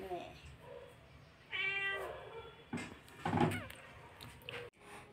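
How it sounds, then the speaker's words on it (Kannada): A cat meows several times at home early in the morning, short clear calls close to the microphone, with quiet household background between them. "ಎಷ್ಟಿನ ಬೆಳಗ್ಗೆನೇ ಬೆಕ್ಕು ಬಂದಿತ್ತಲ್ಲ"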